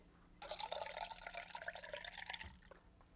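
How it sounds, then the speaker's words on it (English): Melted candle wax being poured into a container during candle making, a steady close liquid pouring and trickling that runs for about two seconds and then stops. "So I'm going to pour the wax first."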